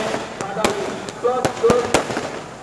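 Fireworks at a cricket tournament opening ceremony in Ghatal burst in a run of sharp, loud cracks and pops spaced irregularly, with an announcer speaking over a lively outdoor crowd.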